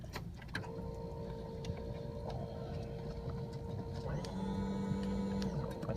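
An RV's hydraulic leveling jack pump motor runs as a steady, loud electric hum with a mechanical drone, and a brighter tone rises near the end as the pump loads up.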